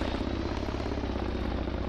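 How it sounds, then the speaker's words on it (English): A helicopter approaches in a Project Reality military game, its dense rotor thrum and engine roar filling the scene loud and continuous with no talk. "Chopper's coming towards you."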